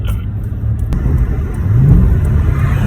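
An Acura TL with a transmission that will not shift down drives along, its engine a close, steady low rumble that swells slightly toward the end as the revs climb.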